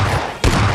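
One sharp AWM sniper rifle shot in PUBG Mobile Lite cuts through the game's steady background ambience, a single loud crack with a short tail.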